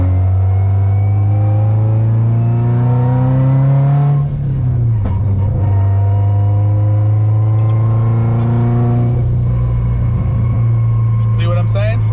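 A 2018 Subaru STI engine revs up toward 7,000 RPM, its rising rumble loud and close, then drops back and climbs again, with engine noise filling the whole stretch.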